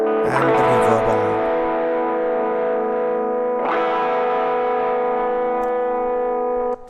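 Saturated, compressed electric guitar with reverb rings out in two strummed chords, each sustaining into a long, washy tail, loud and alone in a mix.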